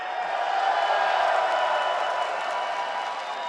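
Esports event audience applauding and cheering in a steady, dense wash of crowd noise that holds loud throughout.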